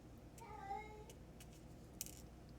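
Shadow, a cat, lets out a faint, drawn-out meow outside a closed door, heard once against a quiet room with a small click afterward.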